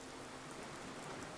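Steady rain falls by the sea, a dense, even hiss of drops and surf that holds unchanged throughout, fairly soft and with no voices.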